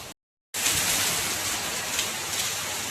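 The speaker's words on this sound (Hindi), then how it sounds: "तो ये हमारे गांव में आज बारिश पड़ रही है, खूब लगातार पड़ रही है" Heavy, continuous rain falling over a village, a dense, even hiss that starts after a brief silent gap and then holds steady.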